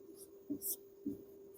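Chalk or marker strokes on a board during a Class 10 physics lesson on reflection of light, a few short scratchy strokes with pauses between them, near and moderately quiet with a steady background hum.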